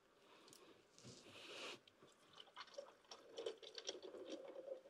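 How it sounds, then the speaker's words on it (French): Sparkling water is poured into a cocktail to top it up at an aperitif gathering, a faint, close trickle with fizzing bubbles that grows busier and more crackly toward the end, without speech. "on va faire la rallonge avec l'eau pétillante"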